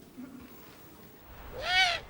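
An owl hoots once near the end, a clear tonal call rising out of a quiet, faintly noisy background after a stretch of near silence.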